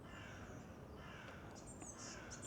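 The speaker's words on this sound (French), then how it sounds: "On a les corneilles là-bas qui nous chantent." Faint carrion crows caw in the distance over a steady hiss of forest ambience, a few harsh calls near the end.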